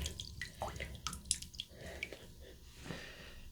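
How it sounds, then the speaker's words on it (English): Water squeezed and dripping from a synthetic shaving brush after dipping, a close series of soft wet drips and squishy splutters over about three seconds, fairly quiet and without speech. "And then I'm going to get all this water out of here."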